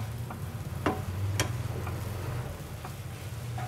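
Tofu pad thai being stirred in a hot pan with noodles and egg, a steady close sizzle of frying food broken by a few sharp scrapes and clicks of the utensil, with no talking.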